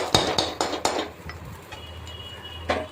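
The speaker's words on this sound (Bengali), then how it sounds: "একটু নাড়িয়ে নেব" A utensil stirs onions and chopped green chillies in a frying pan, producing several sharp metallic scrapes and clinks near the start, then quieter scrapes and a final knock over a soft frying hiss.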